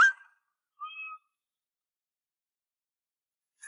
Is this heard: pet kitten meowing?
yes